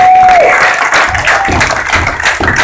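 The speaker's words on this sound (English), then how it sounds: "How about a great round of applause for these great group of guys up here?" A crowd at the NAMM music trade show claps and cheers for a group of musicians, loud and close, with a brief tone fading out at the start and surging, uneven bursts of applause after.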